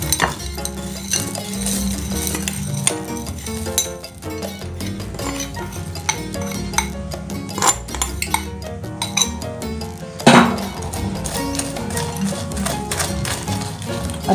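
A spoon stirs Milo Choco Crunchy crumble through cake batter, giving repeated scraping and clinking against the bowl under background music, with one sharper clack near the end.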